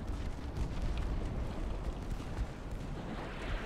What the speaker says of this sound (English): broadside is away off our second destroyer